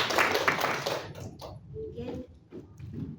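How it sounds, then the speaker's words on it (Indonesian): An audience at a school teachers' dissemination meeting claps loudly for about a second, then the clapping fades quickly and people begin talking. "Tepuk tangannya Bapak Ibu."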